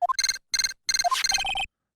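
Repeated electronic ringing of a transceiver in the Phoenix Wright video game, three bursts of bright trilling tones separated by short pauses, followed by a rising chime and a steadier pulsing ring, loud and alone.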